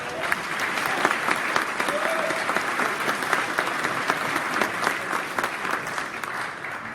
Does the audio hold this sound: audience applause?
yes